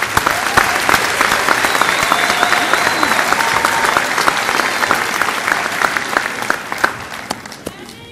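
An audience at a Pratt Community College commencement applauding graduates, sustained loud clapping from a large crowd that gradually thins and fades toward the end.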